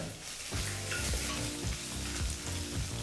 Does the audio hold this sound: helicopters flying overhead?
no